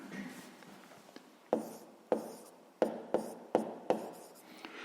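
A math solution being written out in a 6th-grade lesson: quiet scratching strokes punctuated by about six sharp taps, close and faint, with no talking.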